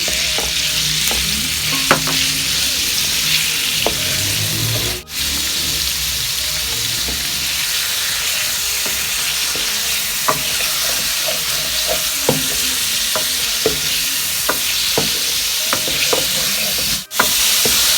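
Steady, loud sizzling from a hot pot as chicken fries with garlic, with frequent utensil scrapes and clinks as it is stirred, continuing throughout without any talking.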